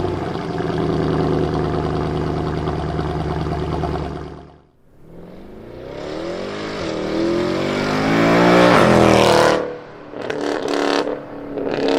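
A Mercedes C63 with a 4-litre V8 turbo engine running steadily, then cutting out briefly before revving hard and loud up through its range, with sharp blips and pops at the end.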